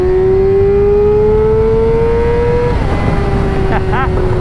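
Yamaha R6 sport motorcycle engine revving hard and accelerating through the gears, a loud, throaty high-pitched whine rising steadily, with a shift and renewed climb near the end.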